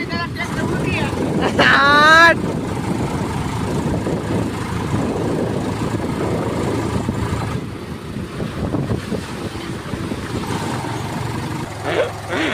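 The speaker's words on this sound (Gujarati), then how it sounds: "હવે જોઈ આ ટ્રેક્ટર નીકળી જાય કે નહીં નીકળી જાય" A tractor drives through a farm field while emptying a load, its engine a rough, uneven drone that strains and shifts. People talk over it close to the microphone, with wind buffeting in places.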